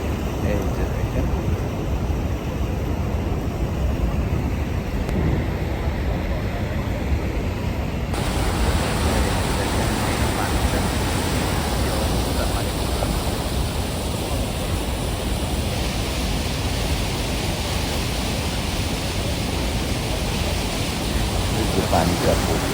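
Niagara Falls pours down from the American side in a dense, unbroken roar of falling water, loud and steady throughout, with a voice talking over it.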